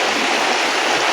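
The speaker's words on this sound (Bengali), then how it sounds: "ডালিম দিয়ে টপ টপ করে পানি পড়ছে" Heavy village downpour pours steadily as water drips from a pomegranate tree, forming a dense, loud, even hiss of rushing water that continues for about a second without any pauses.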